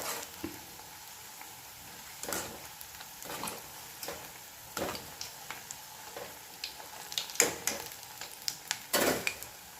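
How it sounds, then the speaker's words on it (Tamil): Tea-shop style medu vada fry in hot oil over a medium flame, giving a quiet bubbling sizzle broken by scattered sharp crackles and pops that grow busier toward the end. "வடை போட்டாச்சு இப்போ மீடியம் ஃப்ளேம்லேயே பொறிச்சு எடுத்துக்கலாம்"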